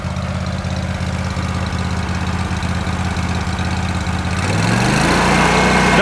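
A Wright Stander ZK stand-up riding lawn mower runs with a steady, loud engine drone and rhythmic pulsing, then revs higher and grows louder near the end.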